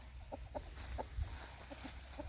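Chickens cluck softly in a backyard flock of barred rocks, australorps and buff orpingtons, short repeated calls spaced through a steady low background hum.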